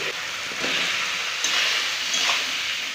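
Pre-fried potatoes go into a tomato and spice masala in a pan and sizzle with a close, steady hiss. A couple of brief scraping stirs are heard, and no one speaks.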